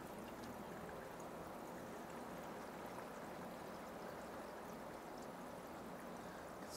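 Water rushes steadily through a deionizer filter connected to a wall tap for a pressure washer, a faint, even hiss and trickle with no breaks.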